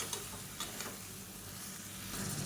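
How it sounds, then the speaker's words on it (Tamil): Vegetables being sautéed in oil for biryani give off a quiet, continuous sizzle, with faint stirring clicks and scrapes and no voices. "இது எல்லாத்தையுமே இந்த எண்ணெயில் வதக்கிக்கலாம்"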